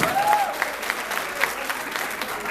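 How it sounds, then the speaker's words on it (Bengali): Loud audience applause breaks out for the contestants at a university CSE 44th batch one-year celebration in Bangladesh. Dense, steady clapping from a crowd fills the whole stretch. "সারওয়ার, রেক্সোনা, বাপন এবং আখি, তাদের জন্য জোরে একটি করতালি।"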